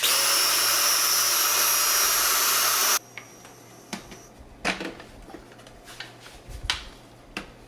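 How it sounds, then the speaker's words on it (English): A Ninja blender blending meatball sauce whirs loud and steady for about three seconds, then cuts off, leaving quiet knocks and clinks. "So here we're just adding to our Ninja blender."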